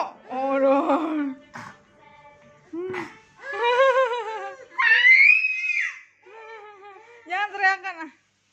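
A young child screams and wails in several shrill, high-pitched bursts, broken by short pauses and whimpering cries, close to the microphone.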